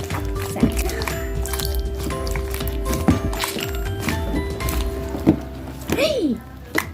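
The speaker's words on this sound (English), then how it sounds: "Let's make a pop sound." Green slime made with Elmer's Magical Liquid gives off a few soft, wet pops and squishes as it is poked. The pops come at irregular intervals, close up, mostly under ongoing talk.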